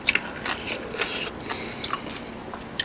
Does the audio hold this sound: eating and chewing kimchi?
yes